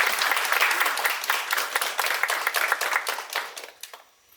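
Applause from a theatre audience greets a defence lawyer character entering a stage play, with dense clapping that thins into scattered claps before dying away near the end.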